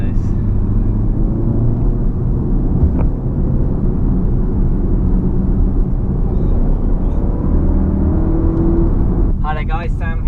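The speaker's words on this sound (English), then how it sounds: "join me in the Golf R for a bit of a fun drive around these kind of amazing roads really" A VW Golf R drives along country roads, its engine and tyre roar forming a loud continuous interior rumble that holds steady, with a brief voice near the end.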